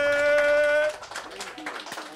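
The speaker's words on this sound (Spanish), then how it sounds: "Aplauso para Pablo Chile." Brief clapping from a comedy-show audience breaks out after a sustained tone cuts off, scattered and fairly quiet, with voices underneath.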